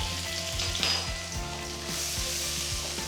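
Finely chopped garlic and ginger frying in hot oil, a loud, dense sizzle that holds steady and close throughout, with faint rhythmic low thumps beneath.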